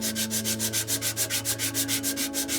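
Sandpaper rubs back and forth over a wooden tobacco pipe in quick, even strokes, a close, rhythmic scratchy hiss repeating about six times per second with a steady hum underneath.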